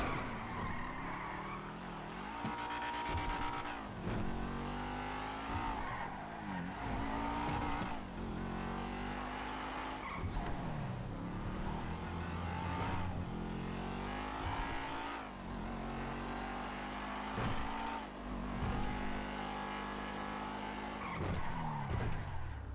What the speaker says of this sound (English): That's such a hard brake.